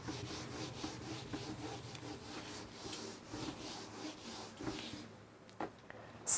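An eraser rubs chalk or marker writing off a classroom board in repeated back-and-forth strokes, a scratchy steady rhythm up close, dropping off near the end before a couple of sharp knocks.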